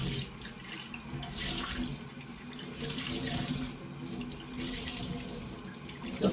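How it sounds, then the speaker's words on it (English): Running tap water splashing steadily over tie-dyed fabric items being rinsed in a sink, close and continuous with slight changes as the items move under the stream, with no talk. "So we're going to rinse this."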